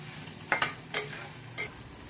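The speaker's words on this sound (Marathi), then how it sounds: "आणि ते मिक्स करून घेऊया व चांगलं परतून घेऊया" Tomato thecha, a coarse spicy village-style relish, is mixed and sautéed in a pan. The quiet background sizzle is broken by a few sharp spoon scrapes and clicks, clustered early and then one more later, with no voices.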